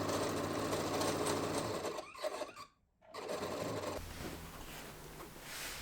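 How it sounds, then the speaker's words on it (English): A sewing machine stitches rows of shirring across the front and back pieces of a dress, running as a steady close whir that stops briefly midway and then resumes. "Continue to stitch all the shirred lines on the front and back pieces."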